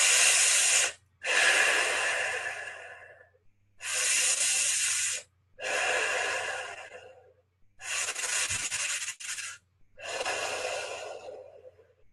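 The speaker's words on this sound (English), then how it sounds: "As I now breathe in, as though sucking in through a straw and breathing out." Slow, deep breaths drawn in and let out during a calm guided meditation, with six long breathy passes separated by short pauses, close and fairly loud with no talking.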